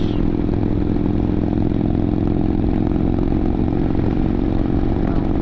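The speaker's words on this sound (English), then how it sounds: "It's definitely a different exhaust note than the parallel twin on this Super Tenere for sure." A motorcycle engine drones steadily at cruising speed, a loud, constant exhaust rumble heard up close with wind noise.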